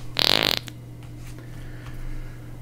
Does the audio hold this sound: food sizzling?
no